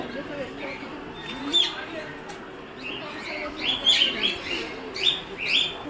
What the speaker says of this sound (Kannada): ಅದಾದಮೇಲೆ ಮತ್ತೆ ಪಕ್ಷಿಗಳು